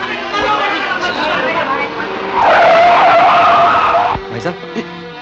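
Car braking with a loud tire skid on a road in an older Hindi film scene, a sustained screech lasting over a second amid background street noise and voices.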